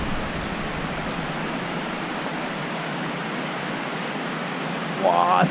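A waterfall on Yakushima in Japan pours with a continuous, full roar of crashing water close by, and a voice briefly rises over it at the very end.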